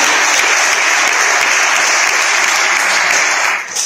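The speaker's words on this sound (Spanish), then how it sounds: "Fuerte el aplauso que vive para la comunidad aquí." Church congregation applauding during a sermon, a dense, loud and continuous wash of clapping that thins slightly at the very end.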